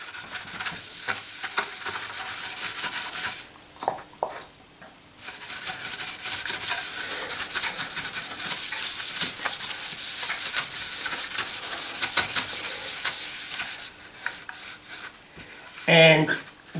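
A rag rubs wax onto a wooden workbench, a close, continuous scrubbing and swishing with brief pauses and a knock near the end.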